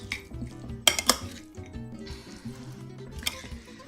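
Close clinks and scrapes of a utensil working through a yogurt dressing in a bowl, with two sharp metallic taps near the start and softer irregular stirring sounds afterward.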